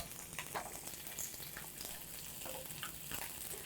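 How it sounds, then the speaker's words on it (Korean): Steady crackling sizzle of salmon frying in a hot pan, with occasional sharper pops and spits, close and continuous throughout. "밑면이 어느 정도 지글지글 잘 구워졌는데요"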